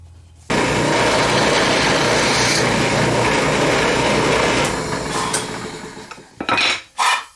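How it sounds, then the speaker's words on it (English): A power drill with a 1/4 inch bit bores out the tone holes of a handmade Native American wooden flute during tuning, a loud steady whirring grind for about five seconds that tapers off, followed by a few short bursts. "I'm going to go ahead and bore them out just a little bit more with a 1/4 inch bit."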